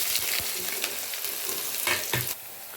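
Chopped onions sizzle and fry in a pot for chicken haleem, a busy close crackle broken by scraping stirs and clinks before the sizzle drops away near the end.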